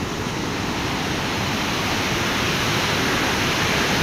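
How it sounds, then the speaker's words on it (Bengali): Strong rushing water pours over the Mohanpur rubber dam in Dinajpur, a loud, steady broadband roar that stays constant throughout with no voices. "এত জোরে জল নামছে আপনারা না দেখলে বুঝতে পারবেন না"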